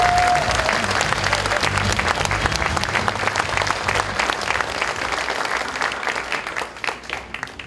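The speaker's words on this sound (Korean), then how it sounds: "여러분 큰 박수로 환영해 주십시오." Loud, dense applause from a large crowd at a Democratic Party rally in South Gyeongnam, welcoming the party leader, sustained throughout and thinning slightly toward the end.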